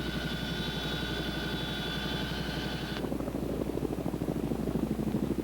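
A Boeing CH-47 helicopter flies with a steady rotor thump and engine drone; a high whine sits over it for the first three seconds, then cuts out, leaving a louder pulsing beat.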